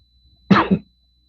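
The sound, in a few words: person coughing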